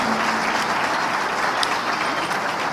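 A congregation at a church convention breaks into steady, dense applause that fills the hall evenly from start to finish, with no voices rising above it.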